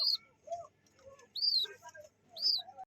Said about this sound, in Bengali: আরো এক জোড়া কবুতর আছে